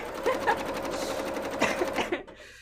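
A sewing machine runs in a steady fast stitching burst, close and loud, with small shifts in pace before it stops abruptly near the end; sewing for a cosplay costume.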